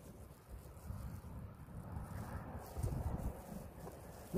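Wind blows steadily outdoors on an ice-fishing outing, a low rumbling buffet against the microphone with gusts rising and falling, fairly faint.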